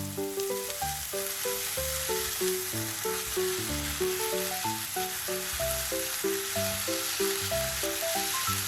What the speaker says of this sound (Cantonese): 油熱之後落豬扒。 中細火慢慢煎